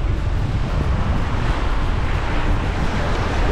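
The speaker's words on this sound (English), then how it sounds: "as you can see, it's a little windy today" Steady, loud wind buffets the microphone by a beach after a hurricane, a dense continuous roar with low rumble and gusting throughout.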